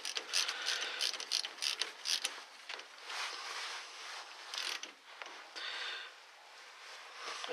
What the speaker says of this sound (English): I'm going to just torque it down to about